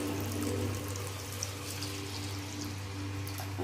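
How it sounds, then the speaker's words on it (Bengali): Water streams steadily into a pot of cooking lentil dal, a soft, continuous pour heard close but quietly. "এখন পরিমাণ মতো জল দিয়ে দেবো"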